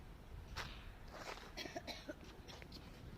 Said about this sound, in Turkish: Öksürüyorum.